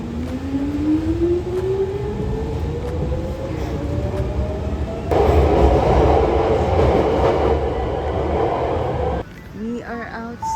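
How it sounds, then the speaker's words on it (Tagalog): A local Hankyu Line train in Kyoto rumbles along from inside the car, a steady low roar with a rising whine that swells louder partway through before cutting down near the end, with voices faintly underneath. "Ayan o, local train. Hangji Line."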